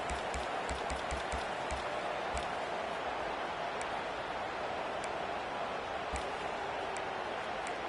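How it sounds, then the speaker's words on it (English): Steady wash of stadium crowd noise in a college football video game, a constant roar of fans on their feet yelling, with faint ticking clicks scattered through the first few seconds. "for an entire game, they are on their feet, yelling, screaming"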